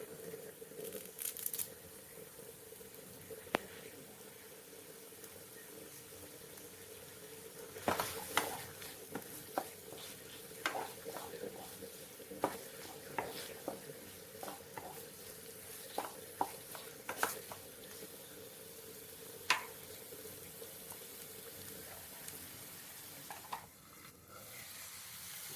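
Curry leaves and onion frying in oil keep up a steady sizzle for the whole stretch, broken by scattered crackles and the scrape and clatter of stirring. No one speaks.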